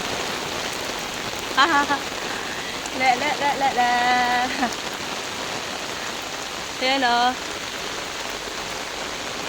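Heavy rain pours down in a dense, steady hiss and patter close by, while a person briefly sings and speaks over it.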